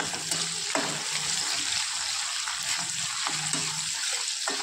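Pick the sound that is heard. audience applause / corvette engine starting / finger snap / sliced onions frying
sliced onions frying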